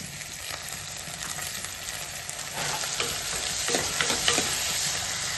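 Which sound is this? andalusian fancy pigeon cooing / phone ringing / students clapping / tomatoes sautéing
tomatoes sautéing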